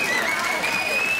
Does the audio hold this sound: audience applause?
yes